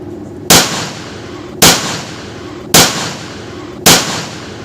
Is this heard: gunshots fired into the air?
yes